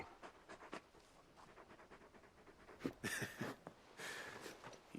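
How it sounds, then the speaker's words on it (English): A large dog in Final Fantasy 16 pants softly in quick, rhythmic breaths, faint and fairly close, with a few louder huffs near the end and no talk. "You're just a big puppy, aren't you? A very big puppy."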